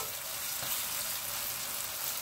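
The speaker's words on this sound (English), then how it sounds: "Fry it for 2 minutes" Oil sizzles steadily in a pan while onions and seasonings fry as the base for Guyanese curry pumpkin with salt fish, a continuous close hiss with no talking.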